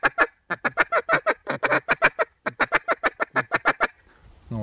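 A duck call blown in a run of short, single feeding quacks, about twenty clipped, evenly spaced notes in quick rhythm, loud and close with nothing else behind them.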